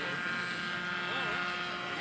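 Radio-controlled model airplane at an aero design competition taking off and climbing, a steady buzzing engine drone with a slight rise and wavering pitch, heard at a distance under constant background noise.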